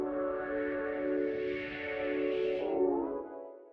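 Soft ambient beat with sustained synth chords drenched in reverb, a gentle wash that holds steady and then decays into a fading echo tail, quiet and alone.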